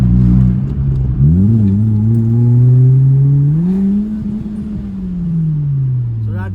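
A Honda Civic EP2 engine revs hard under full throttle, its deep roar climbing steadily in pitch, loud and close, before easing off.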